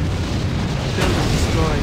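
In the Act of War real-time strategy game, a building is destroyed by a deep, rumbling explosion that swells about halfway through and is mixed with other loud battle noise.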